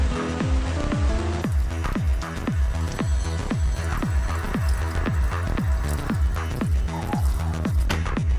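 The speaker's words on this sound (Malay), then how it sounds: "Hujan lebat ni." Heavy rain drips and patters steadily in a close, regular rhythm of distinct drops over a constant wash of falling water, continuous throughout with no talk.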